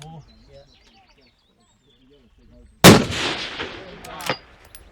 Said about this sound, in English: they're already shooting and putting those impacts on steel